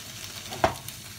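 Cabbage and vegetables stir-fried in a wok, a brief close sizzle with one sharp scrape or clink of the stirring utensil.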